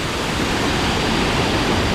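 Tat Hua Suea waterfall roars in a constant, dense rush of falling water heard up close, loud and unbroken, with no voices or other sounds over it.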